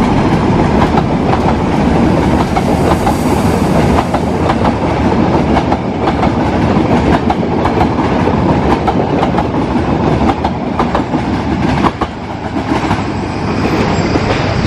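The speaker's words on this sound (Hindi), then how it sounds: "ट्रेन।" A train runs on a railway line through forest in Katarniaghat Wildlife Sanctuary at slow speed, a loud, steady, continuous rumble with rhythmic clickety-clack of wheels over rail joints, close by and sustained throughout, with no talking.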